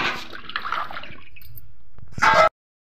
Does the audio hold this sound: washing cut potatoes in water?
yes